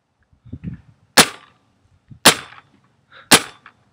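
A Planet Eclipse Etha paintball marker fires three sharp, loud shots at roughly one-second intervals, seen from the side outdoors, with faint soft rustling and small handling noises between the shots.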